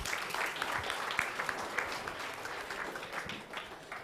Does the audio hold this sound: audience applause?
yes